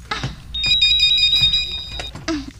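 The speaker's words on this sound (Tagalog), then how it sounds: "Oh, nagring ang telepono ho." A telephone rings in an indoor radio-drama scene at a hospital, a bright repeating electronic bell trill sounding loud and close for about two seconds between short bursts of other noise.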